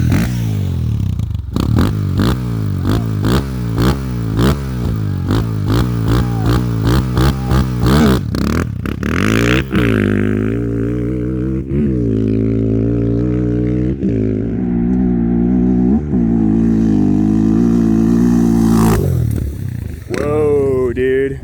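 A Honda 400EX quad fitted with a big bore kit and cam revs hard up through its gears, its engine note climbing and dropping at each shift, close and loud, then settling into a sustained high-rpm drone.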